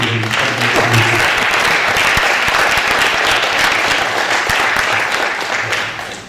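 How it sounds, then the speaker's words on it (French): Sustained audience applause at a closing-night event, loud, dense and steady clapping from a large crowd that fades slightly at the end. "On les applaudit encore une fois"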